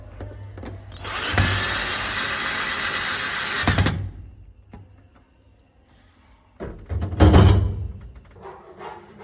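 A power drill or driver screwing a lock into an aluminium fabrication, two sustained whirring runs separated by quiet, with small clicks and knocks of handling between.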